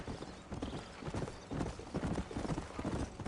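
Horse hooves clip-clop in a steady, fairly quiet rhythm while riding in the video game Red Dead Redemption, with a faint whinny and no talk over it.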